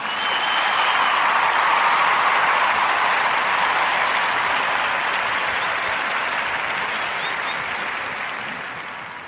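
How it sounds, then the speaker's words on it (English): An audience breaks into steady, dense applause that runs on alone for several seconds, then gradually tapers off toward the end. "Clap it up."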